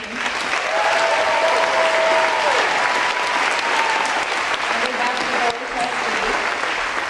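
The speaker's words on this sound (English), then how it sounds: "we've done a lot of clapping and a lot of applause" Sustained audience applause at a high school graduation ceremony fills the space, a dense steady roar of many hands clapping, with a faint voice or tone drifting over it.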